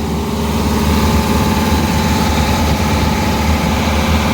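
A large Wanderlodge motorhome engine runs at a steady idle while warming up to temperature, a loud, constant low rumble and vibration close by, with no voices.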